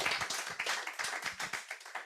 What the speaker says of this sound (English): If we could just get another little round of applause for Martyn.